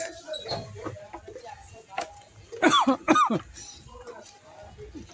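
A person coughs a few times, two strong harsh bursts in quick succession among quieter throat sounds, close to the microphone indoors with faint background voices.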